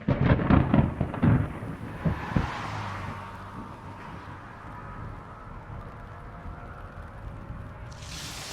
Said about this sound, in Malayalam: ഇടിമിന്നൽ കണ്ടോ? എങ്ങനെയാണ് ഈ ഇടിമിന്നൽ ഉണ്ടാകുന്നത്?